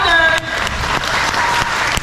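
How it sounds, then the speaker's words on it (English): A crowd at a sea lion show claps hands in a loud, continuous burst of applause, with a voice and a high whistle-like tone briefly present near the start. "Come on, clap your hands. Louder."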